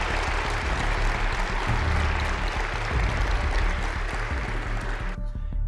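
At a political meeting, a crowd of suited men applauds Kılıçdaroğlu with dense, sustained clapping that stays loud and even before stopping abruptly near the end.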